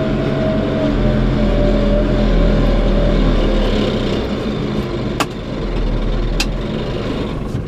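A Case JX110 tractor engine runs steadily while working a wet, muddy rice paddy, a loud, continuous low diesel drone with a slight dip in load partway through and a couple of brief clanks.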